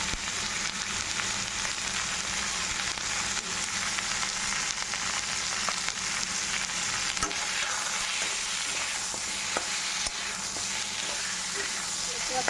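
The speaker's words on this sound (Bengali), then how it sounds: "আদা বাটা রসুন বাটা দিয়ে দিচ্ছি নেবো ভালো করে কষিয়ে নিচ্ছি" Katla fish head sautéing in a pan with ginger and garlic paste and spices, a steady close frying sizzle with stirring scrapes running throughout.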